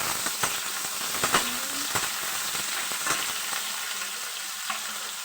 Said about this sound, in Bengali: এবার বেগুনটা দিয়ে ভালো করে নেড়ে নিচ্ছি